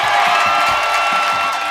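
A studio audience on an Indonesian TV variety show cheers and whoops loudly in a dense, continuous crowd roar, close and filling the moment without any speech over it.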